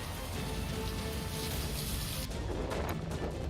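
Heavy rain pours down in Porbandar, Gujarat, a dense, steady hiss of drops drumming on surfaces, close and continuous throughout with no voices.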